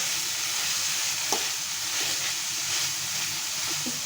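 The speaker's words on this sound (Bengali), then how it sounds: "কচুরলতিটাকে ভালো করে একটু কষিয়ে নেব" Taro stolons (kochur loti) sautéing in a pan with mustard paste and spices, a steady close sizzle and hiss with small stirring clicks throughout, no talk.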